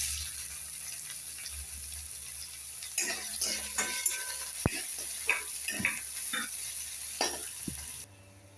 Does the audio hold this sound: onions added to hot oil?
yes